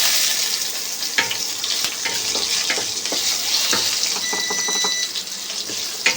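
Tomato fries in oil with dried red chilli, bay leaf, cumin, cardamom, cloves and cinnamon, giving a loud, close, continuous crackling sizzle with frequent sharp pops. No talking is heard.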